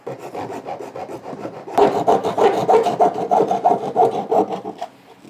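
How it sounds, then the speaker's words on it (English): A hacksaw blade cutting plastic for a trailer hitch on a 2015 Golf Sportwagen, rhythmic back-and-forth rasping strokes close up, softer at first and then louder and quicker. "I'm going to try to do most of the cutting with this hacksaw blade"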